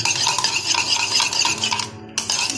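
A spoon briskly whisks beaten egg with salt in a bowl for an egg roll, giving a steady rapid clinking and scraping rhythm, close and clear, with a brief pause near the end.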